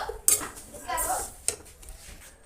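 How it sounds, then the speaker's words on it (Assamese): Sesame seeds roasting in a pan for pitha in a home kitchen, heard as scraping and metallic utensil clinks with a couple of sharper knocks, with voices talking nearby. "আৰু এইফালে তিল ভাজি আছোঁ পিঠাৰ কাৰণে।"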